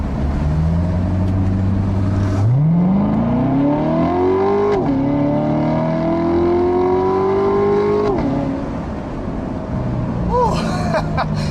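A 2014 Chevrolet Corvette Stingray accelerating hard on a highway off-ramp, engine rising in pitch through gears with brief shift dips, loud and close from inside, with someone talking over it.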